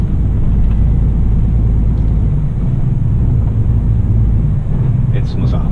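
A DAF XG+ truck engine drones loud and steady from the cab, a deep low rumble holding through the whole stretch as the throttle opens, with a brief faint voice near the end.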